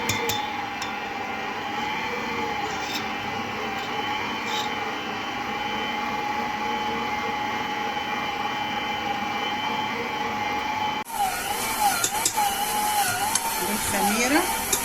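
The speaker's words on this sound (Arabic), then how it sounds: "هاخد بقى المكون ده كله كده وايه، وتعالوا في الخلاط." A kitchen blender runs steadily on dough ingredients, including local ghee, with a constant loud whir for most of the stretch, then turns rougher and more uneven near the end, as if the load shifts.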